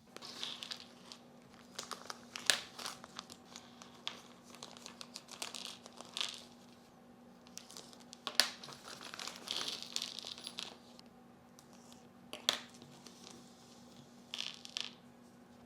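A plastic parts bag from an RC sprint car kit is opened and handled up close, with scattered crinkling and rustling bursts and small clicks of parts shifting, all quiet and without talk.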